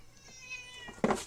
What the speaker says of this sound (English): That was my cat Sammy.